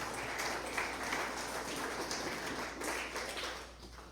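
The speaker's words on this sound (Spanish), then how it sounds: "Den una ofrenda de palmas al Señor con todo el corazón." A church congregation claps together as an offering of praise, a steady, dense wash of applause, fairly soft and even throughout with no voices over it.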